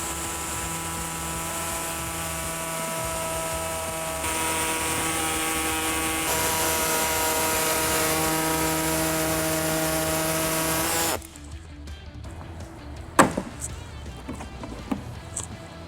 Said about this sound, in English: I'm going to be using an air saw to make our cut